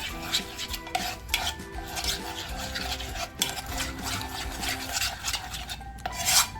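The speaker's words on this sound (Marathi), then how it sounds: "मी पूर्णच दही टाकलं आणि चांगलं मिक्स करायचं आपल्याला" Chicken being worked into a thick yogurt marinade for a turmeric-leaf chicken tandoor, with steady close-up squelching, rubbing and scraping against a bowl that continues throughout without any voices.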